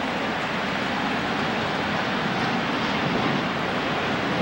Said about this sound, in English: That's just the plane taking off.